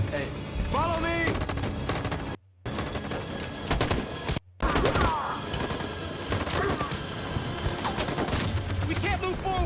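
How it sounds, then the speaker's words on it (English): Machine gun fire in the video game Detroit Become Human, with loud, sustained bursts of rapid gunshots that break off twice for brief silent gaps while voices shout over the battle. "That machine gun is taking down everything that moves."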